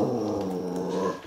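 A dog growls low and steadily at a nearby noise, a close, fairly quiet rumble lasting about a second before trailing off.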